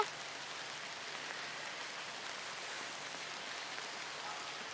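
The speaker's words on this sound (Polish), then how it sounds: "bo pada deszcz" Rain falling steadily outside, an unbroken soft hiss of many drops with no other sounds, quiet and even throughout.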